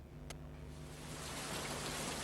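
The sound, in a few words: heavy rain, raindrops falling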